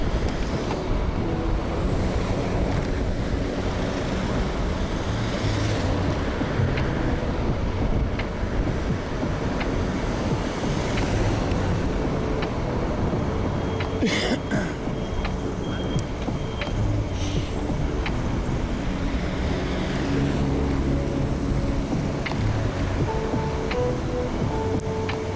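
Strong headwind roars over water, a constant loud rush of wind buffeting the microphone with the wash of waves beneath, steady for the whole stretch, no talking.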